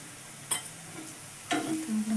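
Coriander cumin powder is stirred into a pigeon pea curry in a pan, heard as two brief scraping strokes over a quiet simmering sizzle, close and without speech.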